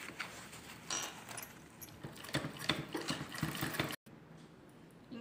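A sewing machine stitching a round-shaped cotton water bottle cover, heard as a fast, steady mechanical rattle of the needle running continuously, close and fairly quiet, stopping abruptly near the end.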